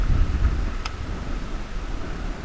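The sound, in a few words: swirling wind outdoors while bass fishing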